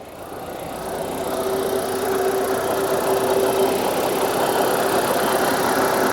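A used car given away free idles right after its first start, a steady mid-pitched engine hum with a faint whine that rises from quiet to an even, continuous level.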